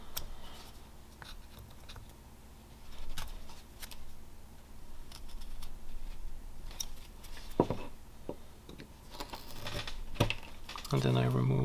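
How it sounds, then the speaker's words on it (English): A knife whittles a small Viking figure from wood, giving light scraping and crisp cutting clicks in irregular strokes, close and soft, with a few sharper shaves toward the end. "And then I remove wood from this side."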